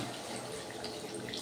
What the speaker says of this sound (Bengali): এবার আমি দিয়ে দেবো অল্প করে একটু জল